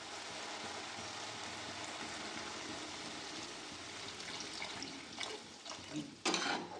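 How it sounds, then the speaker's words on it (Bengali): Water is poured into a pan of banana flower curry, a steady rushing splash lasting several seconds, with a few sharp clinks and splashes near the end, fairly faint and close. "তারপর জল ঢেলে দিয়ে সেদ্ধ করবো।"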